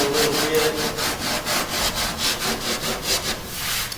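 Hand block sanding of Bondo body filler on a car body panel, a steady run of close, rhythmic scraping strokes, each back-and-forth pass rasping loudly with no talk.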